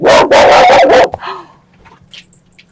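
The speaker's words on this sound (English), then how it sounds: "He's barking at a box." A dog barks loudly four times in quick succession, then the noise drops away to quiet rustling.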